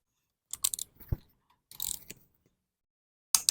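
Torque wrench tightening intake manifold bolts on an International Harvester 140 tractor, with three short bursts of clicking and ratcheting separated by quiet pauses, close by.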